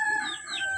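A single chicken gives a brief, high, drawn-out cluck close by, with no talking.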